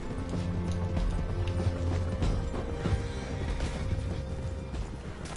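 A horse in Red Dead Redemption 2 clip-clops along in a steady rhythm of hoofbeats, moderately close, under low background hum and no talk.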